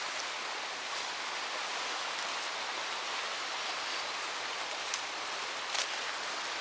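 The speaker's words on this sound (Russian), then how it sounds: "послушать шепот волн" Gentle sea waves washing softly onto the shore of a wild bay on the Bulgarian coast near Rusalka, a steady broadband wash with faint brief surges, no voices.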